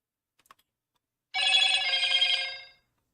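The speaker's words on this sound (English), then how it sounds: "It looks like my phone's going off, making noises." A phone sounds a bright electronic ringing tone for about a second and a half, preceded by a couple of faint clicks, in a quiet room.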